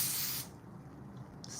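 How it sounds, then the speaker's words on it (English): A spray bottle mists product onto a wig in two short hissing bursts, a long one first and then a brief one, close and clear in a quiet room. "spray it a little bit more."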